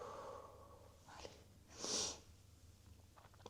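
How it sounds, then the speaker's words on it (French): A woman sniffs from dust and pollen allergies during a home glute workout, one loud nasal snort-like sniff near the middle with softer breathy sniffs around it, close to the mic. "Désolée si je renifle."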